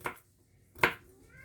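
A child slices food with a knife. Two separate, crisp cuts sound close by, with a quiet pause between them.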